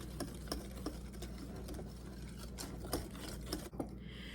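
Half and half being mixed into mashed bananas for banana pecan chocolate chip bread: close, quiet clicking and tapping of a utensil against a bowl in an irregular stirring rhythm.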